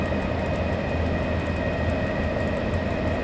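SimRail video-game simulation of an ET22 electric locomotive running on a Polish line between Warszawa Wschodnia and Żyrardów: a steady, loud rumbling drone with a constant high whine, continuous and unbroken, no talk.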